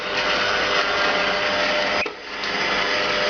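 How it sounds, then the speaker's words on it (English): A stand mixer fitted with a dough hook churns naan dough with a steady motor whir that dips briefly midway and then resumes. "I have the stand mixer equipped with the dough hook"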